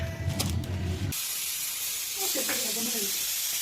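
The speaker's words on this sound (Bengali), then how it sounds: "দেখুন অফ করে দিলাম তো দেখুন বন্ধুরা স্টিমটা একদম ছেড়ে গেছে" Steam hissing from a pressure pot of chicken stew after the stove is switched off, a steady close hiss throughout, with a brief low rumble at the start and faint clatter near the end.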